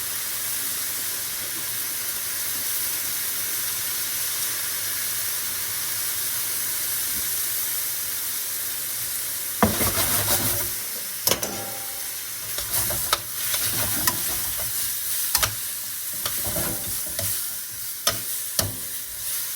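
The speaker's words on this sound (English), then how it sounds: "Going in with my Worcestershire now." Worcestershire sauce goes into a hot pan of sizzling chicken fajitas, and a steady loud hiss turns into busier crackling and bubbling, with utensil scrapes and knocks on the pan.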